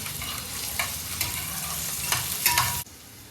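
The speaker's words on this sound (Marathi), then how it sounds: "आता फर्स्ट आपण त्यामध्ये टाकणार आहोत कांदा चांगलं परतवून घ्यायचं आहे" Onion sautéing in a pan for a stuffed crab curry, with a loud, continuous sizzle and several scraping stirs, close by, cutting off abruptly near the end.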